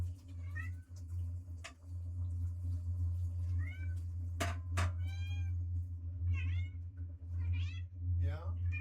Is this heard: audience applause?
no